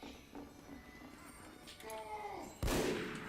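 Sniper rifle fire in Team Fortress 2, one sharp loud shot near the end after a quieter stretch of game ambience with a brief tonal cue just before it.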